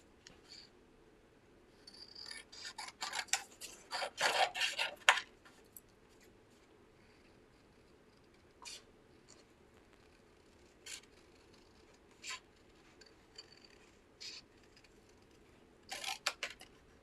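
Scissors snip around a craft foam figure, giving a burst of rapid crisp cuts early on, then sparser single snips spaced several seconds apart, close and fairly quiet against a hushed room.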